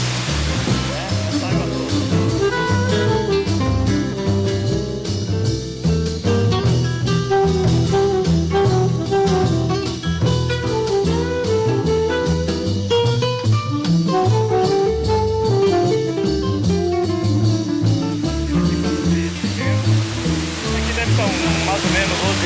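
Water of the Sobe e Desce waterfall in Miracatu pounds steadily onto rock, a loud, dense, continuous roar with no breaks, heard up close.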